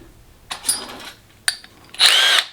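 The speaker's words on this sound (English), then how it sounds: "We're going to drill out the holes for these dingus hoppers, these little inserts." Power drill boring holes for nut inserts during an a2b MPI install, three separate bursts, short whirs followed by a louder sustained run, close and loud with no talking.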